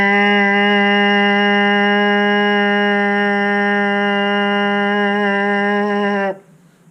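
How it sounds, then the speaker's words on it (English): A trombone mouthpiece lip buzz, loud and steady with a rich, even tone, held for about six seconds before cutting off abruptly. "Here's a really good buzz so you can hear it."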